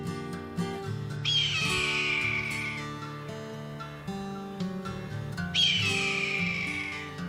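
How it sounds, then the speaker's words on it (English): Red-tailed hawk giving its piercing call, two long, harsh descending screams a few seconds apart, loud and close against a quiet humming background. "Compare that with the piercing call of the red-tailed hawk."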